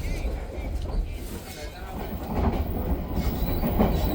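A Kahuripan passenger train runs along the rails near Nagrek station, giving a steady, close rumble of wheels and carriage noise that swells slightly toward the end.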